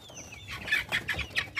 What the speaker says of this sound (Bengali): খামারের মুরগিগুলো অত্যন্ত দুষ্ট হয়ে গেছে। দেখেন কীভাবে মারামারি করতেছে